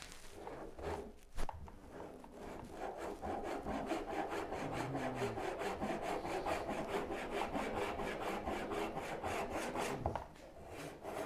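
A hand saw cuts tenons in wood, its strokes coming in a steady rapid rhythm, close and clear, with a brief knock near the start and a pause just before the end.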